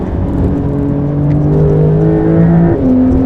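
A Porsche 911 Turbo S with a 3.7 liter, 650 horsepower engine accelerates hard, its loud close engine note climbing in pitch through a gear before a brief drop and rise again, with no voices.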